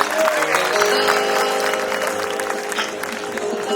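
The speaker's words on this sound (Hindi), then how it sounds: "मैं चाहूंगा जोरदार तालियां उनके लिए" An audience at an Urdu poetry gathering, Jasn-e-Urdu 2025, applauds steadily as a poet arrives, a continuous clapping texture over a sustained musical tone and faint voices.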